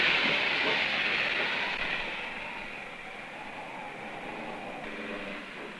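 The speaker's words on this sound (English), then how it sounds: "Train stops for 5 minutes" A train slowing down with a steady hiss and rumble that gradually fades, as if coming to a halt at a station.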